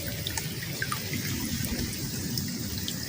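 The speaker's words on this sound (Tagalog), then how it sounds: "Naulan na." Steady rain falling outdoors at a small fishing spot, a constant dense hiss with scattered drips, fairly loud and unbroken, with no voices.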